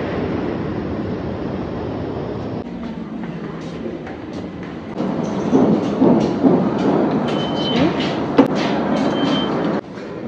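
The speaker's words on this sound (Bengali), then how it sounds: "অপোজিটে ট্রেন চলে এসছে" A New York subway train arrives at an elevated station, with a loud rumbling roar and rattling wheels that build midway, then squealing brakes and clanks before a sudden drop.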